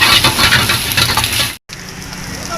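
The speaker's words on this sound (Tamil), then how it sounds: "கேரட் பீன்ஸு கேபேஜ் போட்டு நல்லா வதக்கிக்கலாம்" Carrot, beans and cabbage stir-fried in a hot pan at a street food stall for chicken fried rice, a loud steady sizzle with scraping stirs, briefly cut to silence before resuming.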